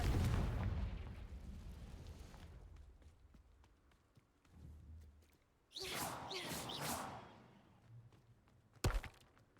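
A Confringo blasting spell from Hogwarts Legacy bursts with a loud rumbling blast that fades slowly, then whooshing magic effects follow and a sharp crack lands near the end.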